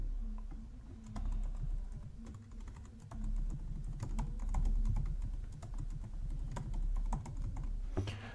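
Someone types a password on a computer keyboard during setup of Portainer on a Proxmox LXC Ubuntu system, with steady, close key clicks running throughout and no talk.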